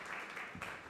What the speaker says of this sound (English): please give a warm applause for all the panelists